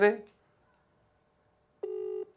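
A phone call ringing while waiting for an answer: one clear electronic ringback tone sounds near the end after a brief voice and a quiet pause.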